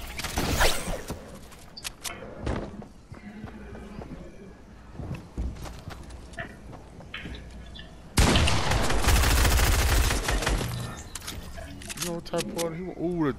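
Gunfire from a drum gun in the Fortnite video game, with scattered shots early on, then a loud dense burst of rapid fire in the second half, heard alongside speech.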